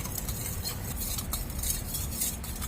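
A spoon stirs lukewarm water into flour and sugar for pizza dough, giving a continuous close scraping and swishing with faint clinks against the bowl.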